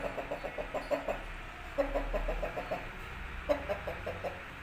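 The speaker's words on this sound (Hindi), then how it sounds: "और बहुत ही अच्छा असील मुर्गा है" An Aseel rooster clucks in repeated rhythmic runs of short, close clucks, pausing briefly between bursts, with no one speaking.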